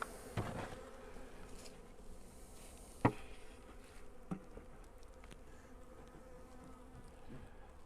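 Honey bees buzzing around a beekeeper working hives in warm winter weather, a faint continuous hum with occasional closer passes and a few soft knocks.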